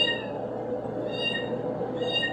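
A small rescued kitten mewing over steady background noise, its thin high cries recurring roughly once a second in short repeated calls.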